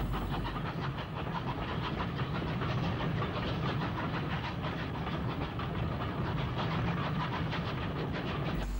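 A British Railways steam train rolls past Eastleigh Works and Shed, a steady, continuous clickety-clack of wagons over rail joints with a low engine rumble, loud and constant throughout.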